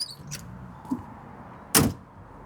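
A car door on a 1932 Singer Junior shuts with a single sharp, close slam, preceded by faint clicks and light handling noises in a quiet setting.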